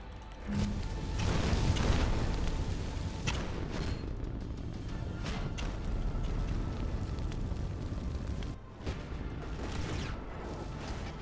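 Missiles strike and explode in the space battle game Nebulous: Fleet Command, making a dense, continuous rumble of blasts and crackling impacts that holds steady, dips briefly, then swells again.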